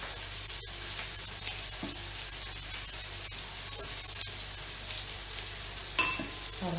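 An eggplant omelette fries in a pan as egg is added, a steady close crackling sizzle that runs throughout, with a brief clink of utensil near the end.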